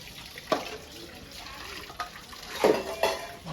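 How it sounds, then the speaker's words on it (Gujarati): Dishes being washed at a sink, running water under a few sharp clinks and knocks of pots and utensils, close and brief, with faint voices in the background. "વાસણ ધોવી છીએ"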